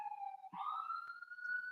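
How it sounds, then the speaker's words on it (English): Emergency vehicle sirens wail steadily in the distance, their pitch sliding slowly upward as the sound carries on with no pause. "I rebuke these sirens."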